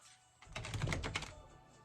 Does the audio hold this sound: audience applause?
no